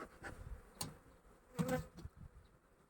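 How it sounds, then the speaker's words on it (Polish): Faint buzzing of honeybees circling near their hive before rain, with scattered louder passes over a quiet outdoor background. "Pszczoły czują deszcz i są złośliwe."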